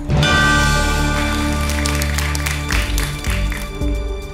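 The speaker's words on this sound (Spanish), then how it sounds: "Aplauden que haya sido detenida." A television studio audience applauds steadily over a bed of loud program music, the clapping sustained and fairly close throughout.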